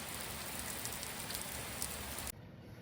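Heavy rain pounds a chateau roof, a dense, even hiss of countless drops heard from the attic that cuts off abruptly near the end, leaving quieter rain; no talk.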